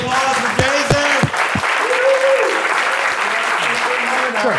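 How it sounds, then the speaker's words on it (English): A live audience applauding a man named Jason, sustained close clapping with a few voices and cheers rising over it. "Let's give a big round of applause for Jason."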